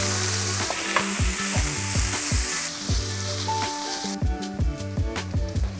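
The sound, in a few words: bacon frying in a pan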